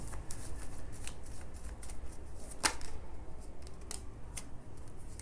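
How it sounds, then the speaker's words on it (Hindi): Tarot cards being shuffled by hand, a close, crisp flurry of riffling and slapping bursts that come in quick repeated waves over a faint background hiss, with no talking. "मैं कार्ड शफल कर रही हूँ"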